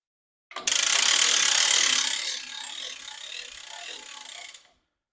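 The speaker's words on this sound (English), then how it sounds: "A little upward pressure on the main winch, and there, we're connected properly." Hood lift winch ratcheting under tension while raising a semi truck hood on a heavy-duty lift: a fast, steady run of close mechanical clicks lasting about four seconds, loud at first then slightly softer, with no talking.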